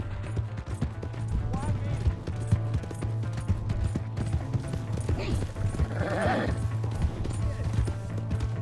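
In the video game Red Dead Redemption 2, a horse gallops with a rapid, steady run of hoofbeats, close and continuous throughout, and a shout breaks in partway through.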